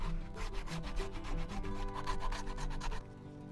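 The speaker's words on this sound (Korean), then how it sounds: "본드칠을 하기 전에 스크래치를 해줍니다." A leather side panel for a black satchel bag gets its surface scratched before gluing, a faint, steady rubbing rasp made of quick repeated strokes that stops abruptly near the end.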